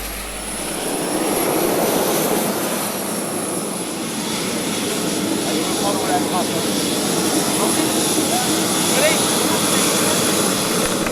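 A scale model ME-262 jet engine at an airshow roars steadily and loudly, a sustained whining rush that holds for several seconds.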